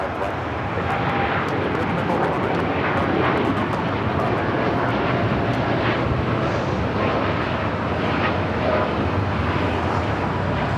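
A jet airliner rolls on runway 5 right at Los Angeles International Airport, its engine roar loud, steady and broadband throughout, with faint radio chatter in the background.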